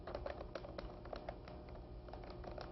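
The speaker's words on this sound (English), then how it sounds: "Okay, so you're typing in French." Fingers tap quickly on a computer keyboard in an irregular patter of light clicks over a steady background hum, with no one speaking.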